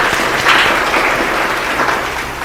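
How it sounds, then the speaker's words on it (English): An audience applauds the three contestants at the end of a category round in a quiz competition, a dense, steady wash of clapping that swells briefly near the start and tapers slightly toward the end. "Clap for them."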